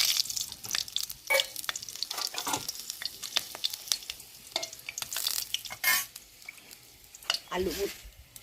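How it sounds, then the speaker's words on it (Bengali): Cumin seeds and chilli tempering in hot oil in a kadai for a vegetarian jackfruit dum, crackling and sizzling up close with sharp pops and spoon scrapes, while a voice speaks intermittently over it. "দুটো জিরে ফোড়ন দিলাম, লঙ্কা দিলাম"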